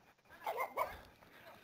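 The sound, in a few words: small pug dog barking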